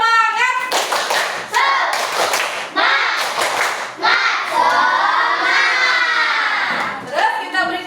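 A class of schoolchildren performs a rhythmic 'tepuk semangat' clapping chant, loud and close, with bursts of hand claps over continuous shouted chanting voices throughout.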